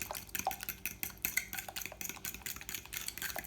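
Liquid muffin ingredients, milk and egg, are stirred in a medium bowl for banana chocolate chip muffins. There is a steady run of close clinking and scraping of a utensil against the bowl, with no voices.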